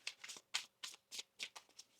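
Tarot cards being shuffled by hand for a reading, a series of soft, crisp riffling bursts in an uneven rhythm, close but quiet, without speech.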